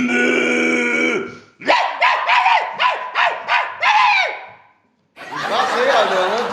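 A person imitates a dog, giving a run of about six short barking yelps in quick rhythm, close and loud, after a sustained vocal tone; another voice or sound follows after a brief pause.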